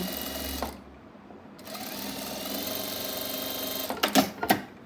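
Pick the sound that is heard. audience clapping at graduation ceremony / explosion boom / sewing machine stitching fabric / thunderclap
sewing machine stitching fabric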